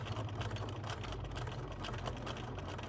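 A sewing machine stitches across the fabric of a dog leash, a steady low whirring hum with quick repetitive mechanical ticking, continuous and fairly quiet throughout.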